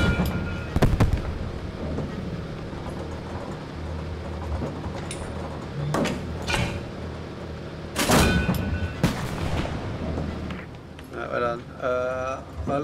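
Tank cannons boom in a realistic tank simulator game, with several loud, sharp blasts and rumbling explosions spread out among engine noise, while players talk to one another throughout.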